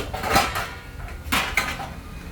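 Steel pressure cookers, a 3-litre and a 2-litre Pigeon, are handled and set down, giving two loud metallic clanks about a second apart with lighter clinks between, close by and without speech.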